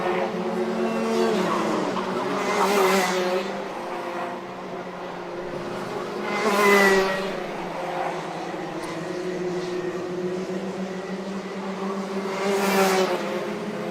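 Junior MAX racing karts scream past during a race final, engines rising and fading in repeated pass-bys with high-pitched revving peaking about every six seconds over a constant engine drone.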